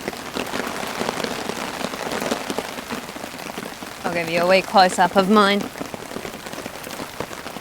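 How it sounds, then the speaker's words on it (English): Heavy rain drums steadily on a tent and camping gear, a dense close patter throughout, with someone speaking briefly over it. "it's raining too much"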